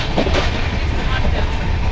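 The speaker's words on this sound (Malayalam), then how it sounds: "ട്രെയിനിന്റെ സൗണ്ടാണ്, ഫുള്ള് ട്രെയിനിന്റെ സൗണ്ടാണ്." A train running on its rails, heard from on board as a steady, loud rumble with broadband roar and faint clattering throughout, close and continuous without pause.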